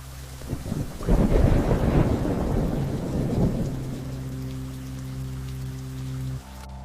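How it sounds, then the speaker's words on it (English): Steady rain falling outdoors with a low rumble of thunder swelling under it, heavy and close for a few seconds and then easing off, and a faint tonal hum in the background toward the end; no voices. "Starting to rain a bit."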